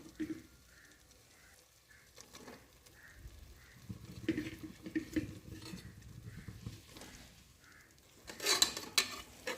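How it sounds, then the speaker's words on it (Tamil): Cooked mutton is stirred with masala in a pot, with intermittent scraping and clinking of a metal spoon against the pot, a soft sizzle underneath and louder clattering near the end. "நல்லா வந்து வதக்கி பெரட்டி விட்டுக்கோங்க இந்த மசாலா எல்லாமே கறியோடு அப்படியே பிடிக்கணும்"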